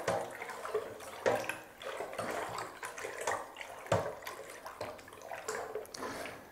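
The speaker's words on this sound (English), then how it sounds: "Good opportunity to give this a nice, good, vigorous stir." Zinfandel wine must made from concentrate is stirred vigorously in a container, giving repeated rhythmic sloshing and splashing strokes roughly every second, close and steady.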